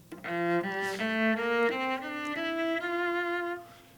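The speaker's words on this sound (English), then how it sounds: "If I take a regular scale, it sounds like this." An instrument plays a regular ascending scale, one sustained note after another at an even pace, clear and close with no talk over it.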